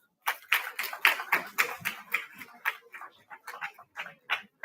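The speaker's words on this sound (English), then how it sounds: "A huge round of applause for Akhilesh" An audience at a Shiv Jayanti celebration gives a speaker a round of applause: light, scattered claps with uneven timing, fairly quiet and not very close.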